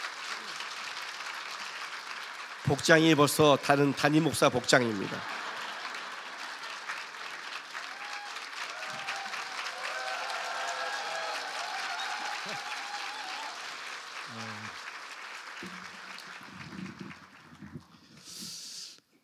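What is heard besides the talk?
church congregation applauding to welcome the pastor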